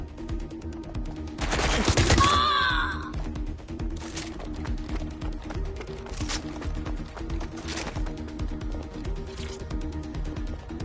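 A loud burst of gunfire in the video game Watch Dogs: Legion lasts about a second, followed by scattered fainter shots over steady background game sound.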